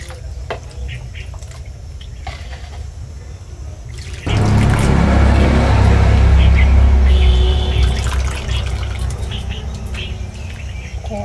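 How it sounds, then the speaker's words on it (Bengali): Water runs and splashes steadily over grated potatoes being washed in a kitchen, a loud continuous rushing wash that eases slightly toward the end, with small clinks and background sounds. "এবার আমি ধুয়ে নেব।"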